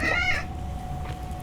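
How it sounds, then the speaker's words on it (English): A pet cat trying to climb onto a chair gives one clear, close meow at the start, then a faint whine and low room noise. Nobody speaks. "Oh, my cat."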